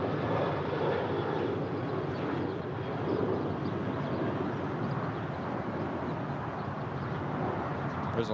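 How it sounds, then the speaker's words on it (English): Alaska Airlines Boeing 737-800 jet at Los Angeles airport, a steady broadband engine roar held at moderate level throughout, fairly distant and unbroken, with no talk over it. "There's Alaska Airlines 532 headed to Portland and the Boeing 737-800"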